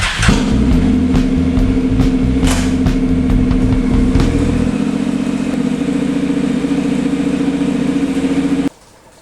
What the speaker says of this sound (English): I'm going to turn it on the stand and put it in first gear and make sure everything rotates nicely.